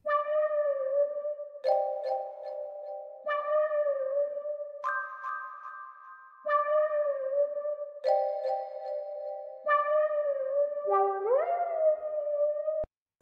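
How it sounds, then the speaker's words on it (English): Synth marimba from the Contact Mallet Flux instrument plays a repeating pattern of bright, bell-like mallet notes together with a sustained lead melody, steady phrases in a close, clean studio mix with a gliding note near the end. "if you play the lead melody together with the marimba, it sounds like this"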